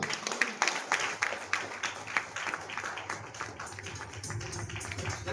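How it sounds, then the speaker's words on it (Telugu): A church congregation applauds after two people are anointed with oil, a dense patter of hand claps from a mid-sized crowd that thins slightly toward the end, with some murmuring underneath. "అందరం చప్పట్లు కొడదాం."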